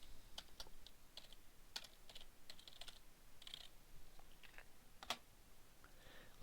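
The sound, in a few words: typing a virtual machine name on a keyboard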